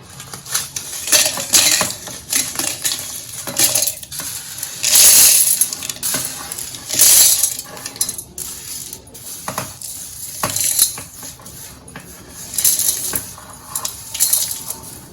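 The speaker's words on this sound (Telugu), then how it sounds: "ఇప్పుడు ఈ మొత్తాన్ని కలిపి మిక్సీ కొట్టి తీసుకోవాలండి" A mixer grinder grinds a dry curry leaf powder mix with asafoetida and salt, a harsh, rattling, gritty clatter that surges and eases in uneven bursts for the whole stretch, close and fairly loud with no talk.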